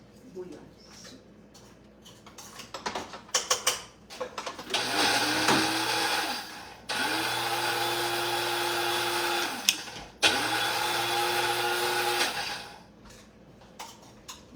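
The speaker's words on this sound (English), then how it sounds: "We are going to blend it really fine." Blender whirring through wet bouillon in a home kitchen, starting with short pulses and clicks, then running loud and steady in three long bursts separated by brief pauses, with faint talk at the start.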